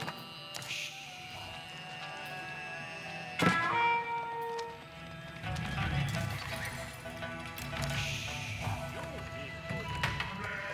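Cavalry horses in a medieval real-time strategy game, hooves clattering and neighing amid battle clashes and a thud, heard under talk.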